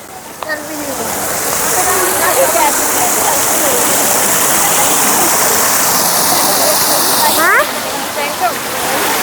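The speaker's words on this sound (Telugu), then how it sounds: "సో ఇక్కడ వాటర్ ఫాల్ చూద్దాం రండి" A waterfall at Kailasagiri hill park in Visakhapatnam roars steadily and close, a dense continuous rush of falling water with faint background voices.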